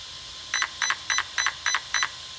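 Six short electronic beeps from a Losi Tenacity DB Pro RC truck's setting button in a steady, evenly spaced run, bright and clear against a faint background hiss.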